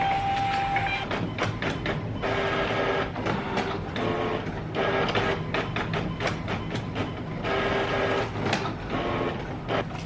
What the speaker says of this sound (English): the labels go through this printer and it's like a lot easier.